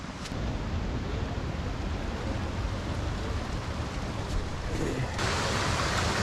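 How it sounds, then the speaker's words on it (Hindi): Water rushes steadily through a channel feeding a traditional water mill used for grinding maize in a Kashmir mountain village, a broad, loud, continuous roar with no voices. "इस पानी को इस तरह से चक्की के अंदर लेके जाया जा रहा है।"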